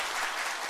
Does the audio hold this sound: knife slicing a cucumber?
no